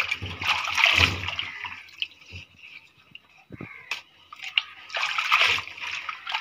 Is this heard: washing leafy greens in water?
yes